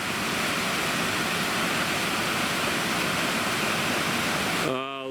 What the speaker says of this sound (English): Even at low water, the falls is just absolutely beautiful.